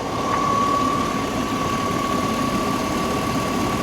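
A Chevrolet Suburban truck engine idles steadily and smoothly, a continuous low rumble with a faint constant whine and no knocks or rattles.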